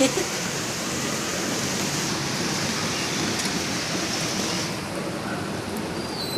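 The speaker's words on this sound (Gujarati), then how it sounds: "ધમધુમાન વરસાદ આવે" Steady, dense rain pours down continuously, a loud broadband hiss with no pauses.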